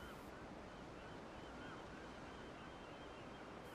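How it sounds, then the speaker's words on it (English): Ocean waves break against an obstruction just below the surface, throwing foam straight upward, a steady dense wash of surf and spray heard alone with a faint wind rumble. "the foam splashes straight upwards with each wave"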